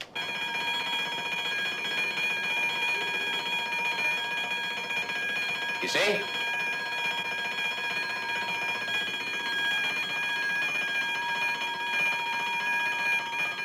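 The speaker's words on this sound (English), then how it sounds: "I'm going to trigger the alarm." A burglar alarm bell wired to doors, windows and a painting rings on and on in a steady metallic trill, with a sharp click partway through and a brief spoken voice.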